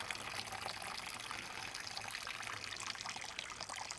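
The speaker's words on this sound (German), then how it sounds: "Hier geht doch eine Menge Wasser rein zum Wurzelwerk" Steady rushing water pouring continuously into a bonsai pot, a dense, even splash with no pauses, close by.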